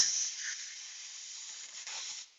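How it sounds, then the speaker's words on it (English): Brake cleaner sprays from an aerosol can onto car parts during an oil leak repair, giving a close, steady, hissing jet for about two seconds that tapers off abruptly, with no talking. "when you're using brake cleaner to clean stuff"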